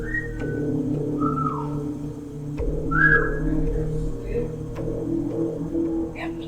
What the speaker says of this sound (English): they started hearing weird noises like whistling or scratching on the door